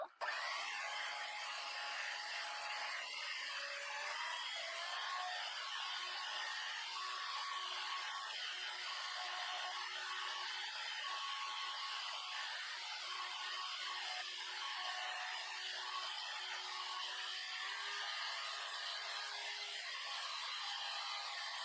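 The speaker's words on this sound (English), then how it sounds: "we're going to blend these ingredients together until they're frothy" Electric hand mixer or blender whipping egg whites, sugar, vanilla and salt until frothy for coconut macaroons, a steady loud whirring drone that runs unbroken for about twenty seconds with no talking.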